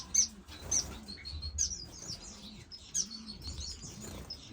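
Several finches in an indoor bird room chirp and tweet in short, high, bright bursts repeating every second or so, with soft wing flutters and low background murmur, and no voices.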